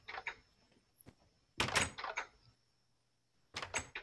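A wooden door in the Minecraft game swings open with a short burst of creaking and clunking, a brief thunk first, then a louder stretch of rattling noise and a second burst a moment later, set against near silence.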